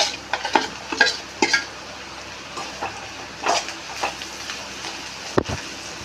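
Pre-fried okra is stirred into a frying curry, producing a series of spatula scrapes and soft pan knocks over a low sizzle, a few sharper clacks standing out; no talking.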